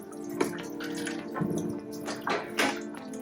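Water spilling and splashing out of an opened Eheim aquarium filter canister, close and irregular, with several louder gushes and drips over a few seconds.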